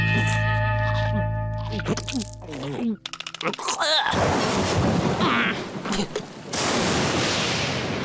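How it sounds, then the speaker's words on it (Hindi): A cartoon scene in the rain brings a sudden loud thunder crash, then a dense hiss of rain and crackling noise, with earlier musical tones and voices speaking over parts of it. "ब्रैड, यहाँ अंदर आ जा, वरना बारिश में भीग जाएगा।"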